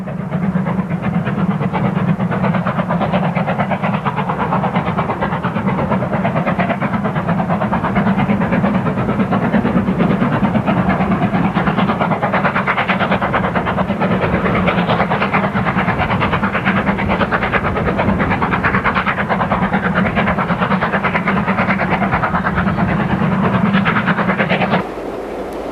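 Steam locomotive Bahamas working along a heritage railway line, a steady loud rumble of engine and rolling wheels holding constant throughout, with continuous rail noise and no speech.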